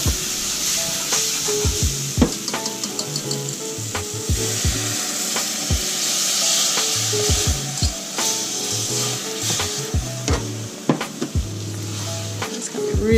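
Cold veggie broth is slowly stirred into a browned roux, with a whisk clinking and scraping against the pot in irregular strokes over a steady background sizzle.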